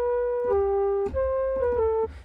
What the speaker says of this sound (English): It's like an Arabic flute